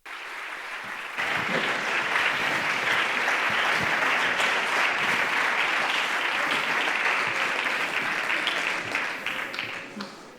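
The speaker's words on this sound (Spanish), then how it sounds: "Aplausazo para ellas." An audience at a Zientzia Club science event in Bilbao breaks into loud, sustained applause after a geology talk, the clapping swelling quickly and holding as a dense, close wash of hands until it fades at the end.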